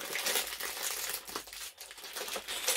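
A plastic bag of LEGO pieces crinkles up close in quick, irregular rustles with brief pauses between handlings.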